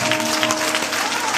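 Congregation in a church breaking into loud, dense applause, many hands clapping together in a steady roar.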